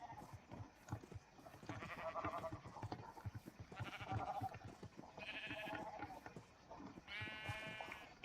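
Several Minecraft sheep bleat repeatedly over a low background bed, the calls overlapping and fairly close, with no voices.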